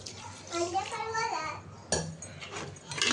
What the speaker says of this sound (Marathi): आता मी याच्यात पाणी ॲड करते.